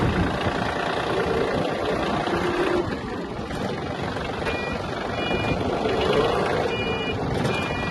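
A Yanmar AF-222 Japanese mini tractor engine runs steadily with a rough, continuous rumble, and faint intermittent beeping tones sound over it.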